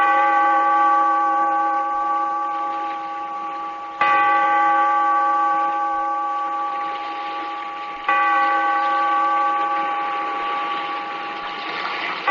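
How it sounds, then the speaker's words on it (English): A church-style bell tolls in a radio drama effect, three long resonant strikes about four seconds apart, each ringing out and slowly fading before the next, loud and alone. "Bellkeeper, toll the bell, so that all may know we are gathered again in the"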